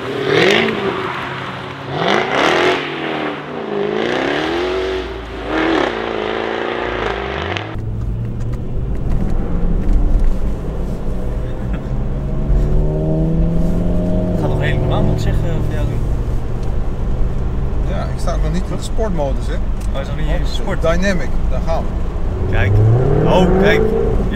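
A Jaguar F-Type V8 S idles deeply in the rain, then revs and rises in pitch with a throaty exhaust roar as its exhaust valves open, while voices talk over it.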